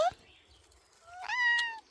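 A cat meows twice, a short cry and then a longer, rising meow, close by with no talking.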